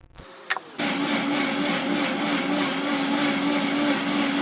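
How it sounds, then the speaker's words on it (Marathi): A mixer grinder grinding tomatoes in a home kitchen: a short rattle, then the motor whirs up into a loud, steady high-pitched hum that runs to the end with no one talking. "त्यानंतर मग टोमॅटो मिक्सरमध्ये वाटून घ्यायचे."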